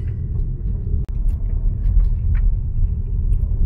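A 2019 Seat Tarraco with four-wheel drive rolls over slippery ground in a rocky canyon, giving a steady low road rumble and engine drone, with one brief dip partway through.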